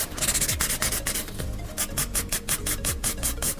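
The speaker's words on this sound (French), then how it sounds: "avec la lime, vous venez casser un petit peu en fait ces angles pour arrondir" A nail file rubs back and forth over a gel nail built on a form, rounding off its corners with steady rasping strokes close up, no talking.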